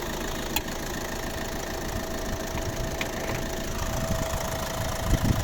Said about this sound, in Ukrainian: Дуже хороша, рівна і тиха робота двигуна.